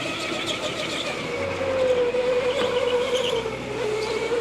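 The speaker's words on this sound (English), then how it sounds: "This kart is hard to handle." Rental go-kart on an indoor raceway track, a steady small engine drone with a rising, wavering whine as it skids through corners, heard close and without talk.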